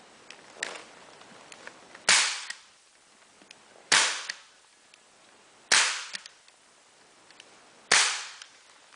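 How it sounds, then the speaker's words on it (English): Four sharp, loud staple-gun shots, evenly spaced about two seconds apart, fire as fabric is stapled onto a dining chair during an upholstery makeover, with quieter handling clicks between them. "pull just a little bit, everything is already nice and tight, and then start to staple."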